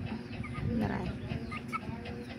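Chickens cluck softly and repeatedly at close range, a busy low murmur of fowl with a few sharper clucks, and a voice talking faintly underneath.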